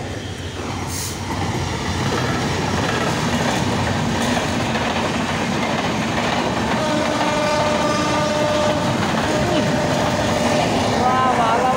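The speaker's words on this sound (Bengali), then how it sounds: "পাগলা ট্রেন, এটা সম্ভবত হয়তো চিটাগাং থেকে আইছে, নাহলে সিলেটের থেকে আইছে।" A train passes steadily through the whole stretch at a rural spot in Bangladesh, likely bound from Chittagong or Sylhet, with continuous rumbling wheels and clatter and a faint horn-like tone near the end.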